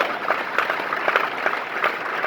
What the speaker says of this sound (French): Applaudissez pour Freedom Net Global.